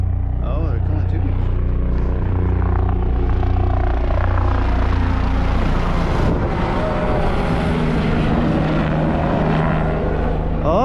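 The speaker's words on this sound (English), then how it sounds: "There's another helicopter. Oh, they're coming to me." A helicopter flying overhead near a waterfall hiking trail, a loud, continuous engine and rotor roar that swells and dominates throughout, with people's voices under it.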